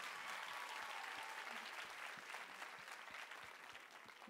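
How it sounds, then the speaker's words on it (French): An audience at a talent show evening applauds a performer, a continuous wash of many hands clapping, steady and sustained, fairly distant and soft, with no clear talk over it. "tonnerre d'applaudissements encore une fois pour Gaïa Masson"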